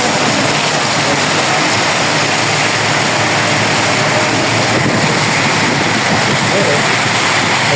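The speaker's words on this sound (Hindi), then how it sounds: "चंगी बारिश है।" Heavy rain pours in a dense, constant hiss, loud and close, with no break across the whole stretch.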